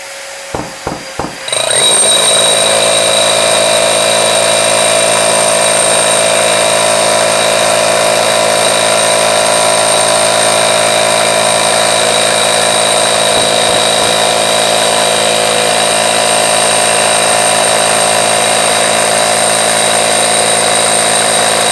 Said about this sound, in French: Je rebranche l'aspirateur et je peux l'utiliser avec une mèche creuse en SDS Max cette fois-ci